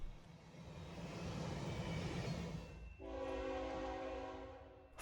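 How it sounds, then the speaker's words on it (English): A northbound manifest freight train with an EMD locomotive passing, a steady rumble of rolling cars that gives way to a loud, sustained multi-tone horn blast close by. "Following directly behind the phosphate is a northbound manifest with a nice EMD locomotive trailing 3 of 3."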